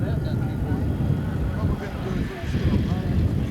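A P-40 warplane at an air show roars overhead as a steady, broad low drone with a dip midway, heard at a distance.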